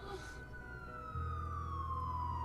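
A police siren in the video game Batman: The Telltale Series holds steady and then slowly falls in pitch, with a low engine-like hum joining partway through.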